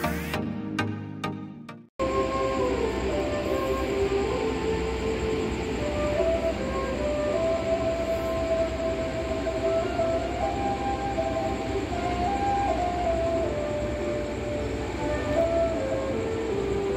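Sembrani passenger train pulling into track 1 at Semarang Tawang station from the east, a loud steady rumble of rolling wagons with faint tonal squeals running nonstop after a brief sharp start.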